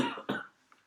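A person lets out two harsh coughs in quick succession close to the mic, then the sound fades to near silence with a faint trailing breath.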